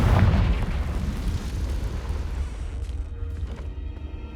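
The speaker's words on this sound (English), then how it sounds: "Confringo." The Confringo fire spell goes off in Hogwarts Legacy with a heavy, rumbling boom that starts loud and slowly fades into a crackling tail of debris, with no talk over it.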